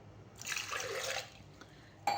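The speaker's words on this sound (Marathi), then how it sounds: "एक ग्लासभर पाणी टाकलेलं आहे आणि आणखीन एक ग्लास असे दोन ग्लास मी पाणी टाकलेलं आहे" Water pours from a glass into a pressure cooker holding raw mangoes in a short splashing stream for about a second, followed by quiet and a brief clink at the end.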